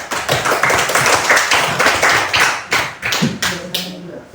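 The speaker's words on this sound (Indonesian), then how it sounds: "Kasih tepuk tangan untuk si Pasca." A class claps for a student in a lesson, a loose run of hand claps and taps with some voices and classroom noise mixed in.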